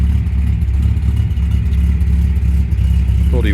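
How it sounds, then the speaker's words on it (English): An MG MGC GT idles smoothly in a steady low, even rumble. It is close and continuous, with a brief higher-pitched whine near the end. "Probably can also hear that the car ticks over nicely, performs really well."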